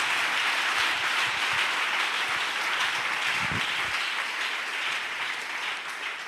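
A church congregation applauds the Lord in steady, sustained clapping that fills the space, dense and even throughout with no talk over it.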